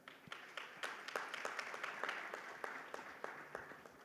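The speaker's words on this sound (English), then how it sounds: "let us give them a round of applause" Audience applause for a panel of speakers closing a session at the SARA 2024 conference, a steady wash of many hands clapping with sharp individual claps popping out, moderately distant and fairly quiet, with no talk over it.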